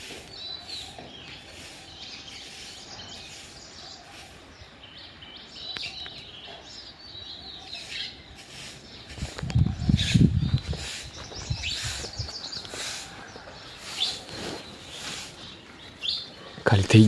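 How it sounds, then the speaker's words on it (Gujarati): Sparrows chirp in short, scattered tweets around a water spot on a farm, with brief bursts of low rustling or handling noise and faint background voices. "ઓલી ચકલી આવી ગયો"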